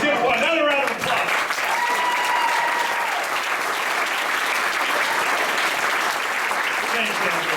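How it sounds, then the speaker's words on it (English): Sustained, loud applause from an audience at a political speech event, steady and dense clapping filling the whole stretch, with a brief whistle or cheer near the start. "Let's give him another round of applause."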